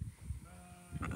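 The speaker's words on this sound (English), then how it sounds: "Lammy, you're a sheep, not a pig" Sheep bleating on a small homestead ranch where hair sheep are kept alongside pigs, a few short nasal calls over low farmyard rumble, fairly close and moderately loud.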